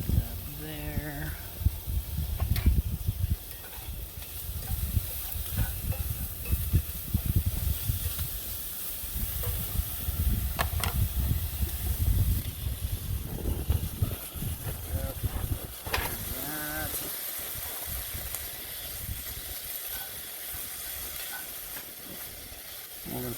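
Bacon cooking in a pan, a continuous close sizzle and hiss that persists throughout, with someone talking over it at times.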